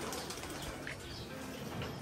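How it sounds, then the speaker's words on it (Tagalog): Pigeons, kept as tipplers in a backyard loft, flutter and coo in a steady close murmur of wingbeats and soft calls, with no one speaking over them. "Ayun yung iba nating ibon dito mga kalapatid"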